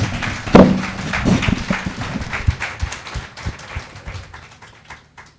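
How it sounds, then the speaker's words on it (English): A panel-session audience gives a round of applause, a burst of clapping that starts strong and gradually thins and fades over a few seconds. "I think that we should please give Adedoja Allen a round of applause"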